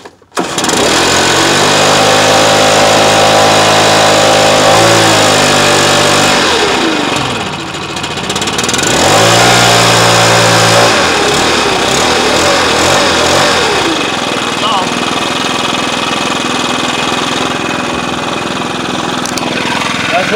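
Stihl BR 600 backpack blower starting cold, then running loud and close with a throaty two-stroke drone that revs up and down several times and settles into a steady roar.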